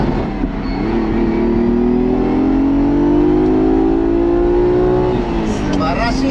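A 1974 Ferrari Dino 246 GTS, European-spec and painted bright yellow, revs up with a loud, close, smooth engine note that rises steadily and holds for several seconds before easing off, with faint noise near the end.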